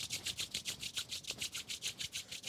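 A pair of hands rub briskly together, about a dozen quick, even back-and-forth swishes close by, soft but distinct.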